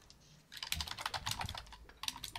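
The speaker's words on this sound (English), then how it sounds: "I can hear typing" Rapid clicking on a computer keyboard starts after a short pause, in quick irregular bursts close to the microphone, then stops briefly and resumes, with no talking over it.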